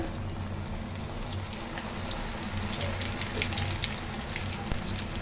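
Bread potato fingers fry in hot oil with a steady, close crackling sizzle that fills the whole stretch, brightening slightly toward the end, with no one speaking.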